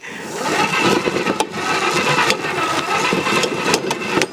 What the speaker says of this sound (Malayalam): നമ്മുടെ മോട്ടർ വർക്കാവുമ്പോൾ ശരിക്കും നമ്മുടെ ആ ഒരു ഷാഫ്റ്റുമേ കണക്ട് ചെയ്തിരിക്കുന്ന രണ്ട് പീസ് കറങ്ങുന്നു